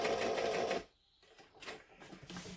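A sewing machine runs slowly through vinyl around curves, a steady mechanical whir that stops abruptly, then resumes in softer, uneven bursts.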